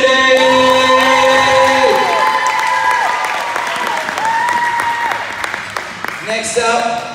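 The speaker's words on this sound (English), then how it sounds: "Let's clap it up for Lucas Kennedy!" At a basketball awards night, a crowd gives loud, sustained applause for a player, with whoops and cheers over background music. The clapping gradually eases toward the end.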